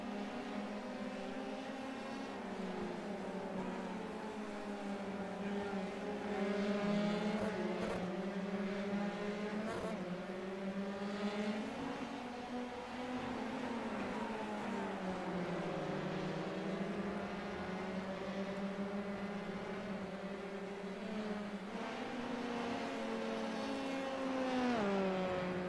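Formula 3 race cars racing in a video game, a steady high-pitched engine whine rising and falling through gear changes and revving, continuous and fairly loud throughout.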